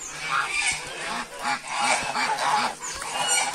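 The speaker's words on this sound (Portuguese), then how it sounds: "O Zé é o ganso mais velho aqui da criação." Several loud, nasal honks from an old farm goose in a close, irregular series, with splashing water and outdoor noise behind them.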